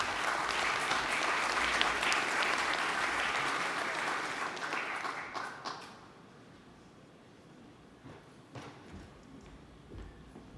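Conference audience applause at an Indigenous clean energy forum, loud sustained clapping for about six seconds that fades out, followed by quieter room noise and a few scattered sounds.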